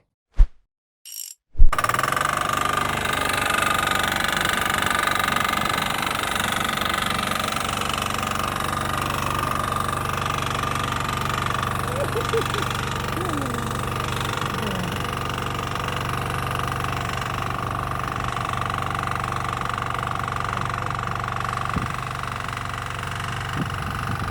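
A DTZ walk-behind tractor engine ploughs wet black soil with a loud, steady, close chugging drone that runs without a break after a few brief knocks at the start.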